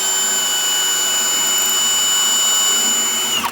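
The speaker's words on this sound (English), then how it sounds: "finish drilling because I want to go all the way through this face frame" Power drill boring steadily through a wooden cabinet face frame with a bit guided through a bushing, a continuous high-pitched whine that holds level and close before winding down sharply at the end.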